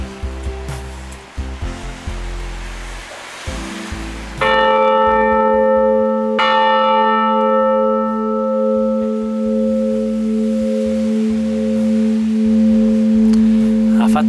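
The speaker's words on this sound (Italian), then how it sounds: "Se ci dà un colpo, sentiamo la campana grande." A large church bell of Santa Maria church in Castel del Piano, Perugia, cast by the Mazzola foundry, strikes once, its deep hum ringing and slowly fading over a long sustain, after some background noise on a rainy day.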